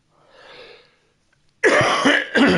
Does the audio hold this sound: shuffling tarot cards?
no